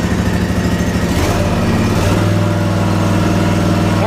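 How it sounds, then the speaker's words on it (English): Kawasaki 23 HP engine on an Ariens IKON X 52-inch zero-turn riding mower idling close by, a steady rumbling drone with a brief shift in pitch partway, no voices. "You gotta love a Kawasaki, that fires right up."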